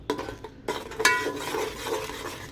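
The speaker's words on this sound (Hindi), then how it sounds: "अब ये सब चीज़ें हम भून लेंगे अच्छी तरह से, बहुत अच्छे से मसाले को भूनना है।" Spices sautéed in a pan for a bone-and-meat salan, stirred with a utensil that scrapes and clinks against the pan over a soft sizzle, close up with no talking.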